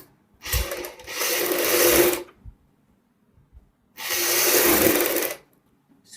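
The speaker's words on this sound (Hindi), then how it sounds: "अब हमने बुकरम के साथ साथ सिलाई लगानी है।" Domestic sewing machine stitching a blouse back neck piece with buckram at home, two sustained bursts of steady whirring separated by a pause, close and fairly loud with no voices.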